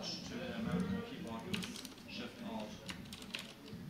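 Keys clack on a computer keyboard in quick, uneven bursts as a password is typed, close to the microphone and fairly quiet, with someone talking over the keystrokes.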